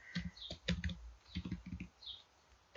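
Computer keyboard typing, quiet bursts of quick key clicks in irregular clusters with short pauses between them, close and clear in a hushed room.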